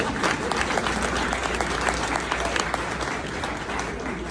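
Audience applause at a women's leadership society keynote, a steady dense wash of clapping that fills the whole stretch at even volume.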